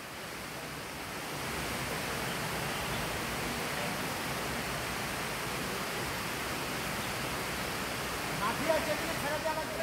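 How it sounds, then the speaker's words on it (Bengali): The steady, broadband rushing roar of the Dhuppani waterfall, continuous and even throughout, swelling slightly near the end, with no talk over it. "ঝর্ণার শব্দও শুনতে পাচ্ছেন আপনারা"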